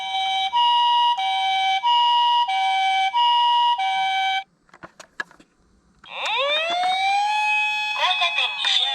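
A small electronic siren on a toy ambulance repeats a two-tone wail, pauses with faint clicks, then sweeps into a rising wail, loud and close, with Japanese ambulance announcements.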